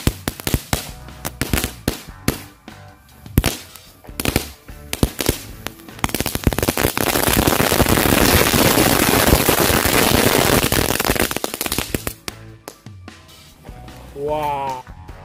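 Firecrackers burst in quick, dense strings around a toy robot, sharp loud cracks piling into a sustained crackling barrage before thinning out, with a voice speaking near the end.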